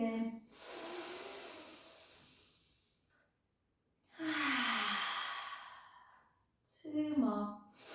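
Long, slow breaths released during an intermediate Pilates exercise: two drawn-out airy exhales, then a shorter breath at the end, close and clear with quiet pauses between.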